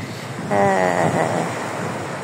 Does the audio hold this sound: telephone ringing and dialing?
no